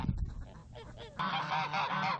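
A flock of geese honks loudly and close, a few scattered calls at first, then a dense, continuous chorus of overlapping honks in the second half.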